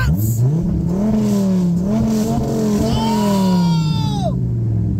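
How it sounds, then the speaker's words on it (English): A supercar at a Supercar event does a smoky burnout, its engine revving loudly and rising and falling in pitch, with a sustained tire squeal climbing toward the end over crowd noise. "Smoky burnouts!"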